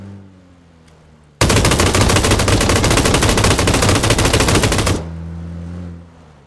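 Automatic gunfire in the video game PlayerUnknown's Battlegrounds: one loud, continuous rapid-fire burst lasting several seconds, starting and stopping abruptly over a low background hum.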